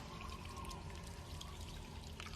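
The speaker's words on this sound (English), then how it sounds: "Water." Water pours and trickles in a soft, continuous stream, faint and somewhat distant, with a light splashing texture and no voices over it.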